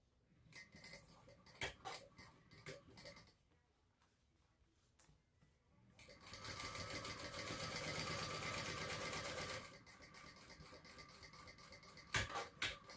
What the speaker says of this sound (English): do a 1/8 inch top stitching to hold that all in place